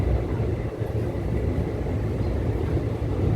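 The Sealdah-Jangipur Express rolls into a station platform at Khagraghat Road with a steady, loud low rumble of wheels and carriage noise that holds evenly throughout.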